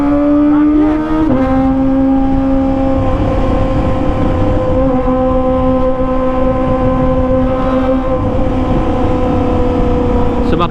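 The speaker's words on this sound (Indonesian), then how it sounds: "Mereka tuh pada suka suara-suara knalpot yang sangat-sangat berisik guys." A Kawasaki ZX25R motorcycle fitted with a Limit aftermarket exhaust idles and revs at low RPM, giving a loud, close, droning tone with brief pitch shifts as the throttle is blipped, while someone talks over it.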